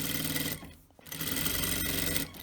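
A sewing machine stitches a robe seam with a stitch guide, running in a loud, fast, close mechanical chatter, pausing briefly before resuming.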